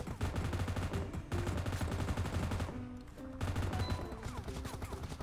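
Sustained rapid gunfire in a shooting video game, dense automatic bursts filling the whole stretch with a brief lull near the middle before the shooting resumes, loud and close.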